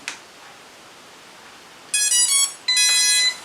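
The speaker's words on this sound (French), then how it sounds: "on entend un bip retentir" Quiet hiss, then two short bursts of high electronic beeping from an MJX Bugs 19 drone pairing with its controller, each lasting about half a second with a brief gap between.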